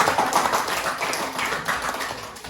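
Classroom of students claps for a presenting student group, a brief burst of fast, close, steady hand clapping.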